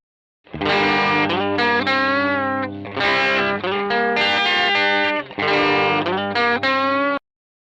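A dry, unprocessed electric guitar plays a melodic phrase of sustained chords and notes, loud and close, with no audible reverb tail.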